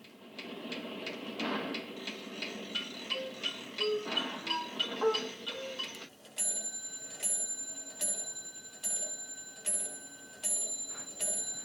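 Clock sound effects from a free sound library: a blend of ticking and chiming clocks gives way to a steady series of bright bell-like chimes at regular intervals, close and clear.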